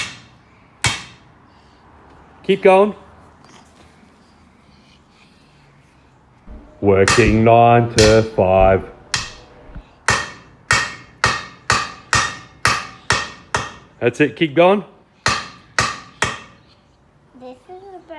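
A very hard hammer bangs a part down onto a Chrysler Hemi 265 engine from a CM Valiant, with a loud burst of blows followed by a steady run of sharp, evenly spaced strikes, while people talk and encourage between hits.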